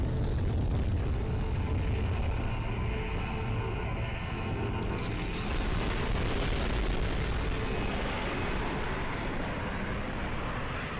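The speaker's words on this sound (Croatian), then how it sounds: "Svaka epizoda će se završiti sa eksplozijom, kako se meni čini." A cartoon explosion in an animated Skibidi Toilet episode: a dense, sustained roar of rumble and crackling debris that swells around the midpoint and fills the whole stretch loudly, with no talking.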